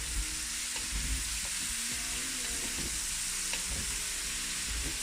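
Rougail saucisse with tomatoes and onions sizzles steadily in a pan while a spoon stirs it, a soft, constant frying hiss with faint scraping.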